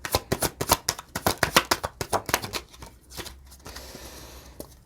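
A tarot deck is shuffled by hand in a rapid run of crisp riffling flicks, close and loud, before easing into a softer rustle and a last tap.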